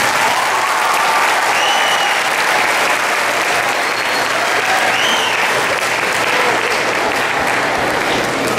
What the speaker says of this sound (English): So Mr. Dunn, you guys can give him a round of applause, please.